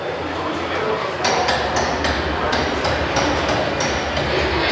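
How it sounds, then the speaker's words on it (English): Repeated sharp metallic hammer strikes on red-hot rivets in steel plates ring out at an uneven pace over a loud, rumbling industrial din. "had to hammer the rivet so it filled the hole before it turned dull red"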